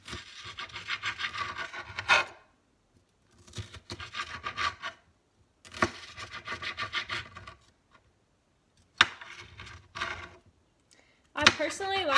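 A knife cuts salad strips into smaller pieces on a board for a Southwest salad, with close, scraping chops in several short bursts separated by pauses.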